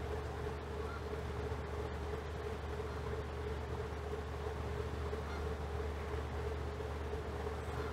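A steady low drone from a hydroelectric plant hums continuously beneath faint outdoor ambience, unchanging and fairly quiet throughout, with no one speaking.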